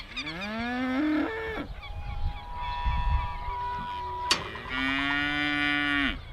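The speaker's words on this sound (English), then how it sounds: "We've come into a paddock where you've got some of your cows" Cows moo in a paddock, two long, drawn-out calls close by, one at the start and one at the end, with a quieter stretch of farmyard ambience and a sharp knock between them.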